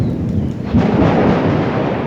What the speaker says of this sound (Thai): ฟ้าร้องดังดีไหม